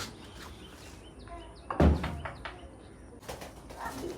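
Pigeons coo softly at close range, one of them sick and caring for a chick, with low throaty calls and a brief flutter in a quiet space.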